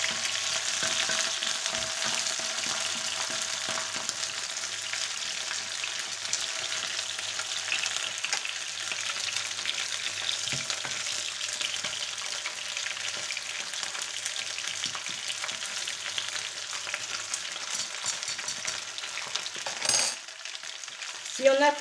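Olive oil sizzles steadily in a pan as paella ingredients are fried and stirred, a constant close, loud crackle with occasional scrapes of the spoon and a brief pause near the end.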